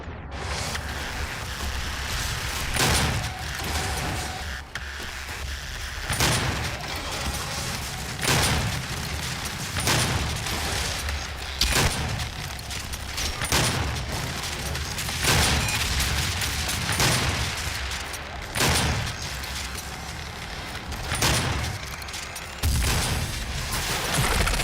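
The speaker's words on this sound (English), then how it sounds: "The rocket came straight into me." Rockets explode again and again in DOOM (2016) on Nightmare difficulty, with heavy booming blasts arriving every second or two over a constant roar of combat.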